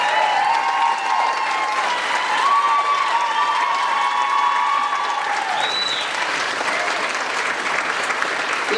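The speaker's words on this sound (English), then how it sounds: "if we give you and all the frontline workers a big round of applause" Audience at the Wexford Rose of Tralee 2022 event gives a warm, sustained round of applause, dense clapping holding steady and then easing slightly, with a few faint voices mixed in.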